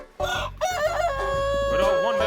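A rooster crows a full cock-a-doodle-doo close by, loud and drawn out with a rising then held final note, heard alone with no talking.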